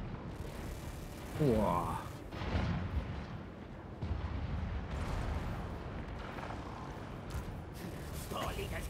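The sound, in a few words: mortar fire in video game Total War: Warhammer 3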